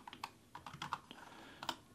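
Fingers tap out a short word on an iPad's on-screen keyboard, giving a quick series of light, close taps with a brief pause before the last few keystrokes.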